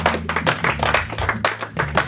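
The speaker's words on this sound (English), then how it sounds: "Somebody clap for Jesus." A church congregation claps for Jesus in a brief burst of rhythmic hand claps, moderately loud, with a low musical hum beneath.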